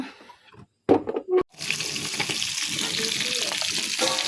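Chicken pieces frying in a pan, a brief clatter and handling noises followed by a steady, close, bright sizzle of hot oil that continues without pause.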